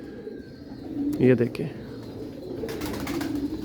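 Pigeons of a Kasni Ferozpuri home-bred line cooing nearby, one brief throaty coo burst rising over a steady background murmur while someone speaks briefly.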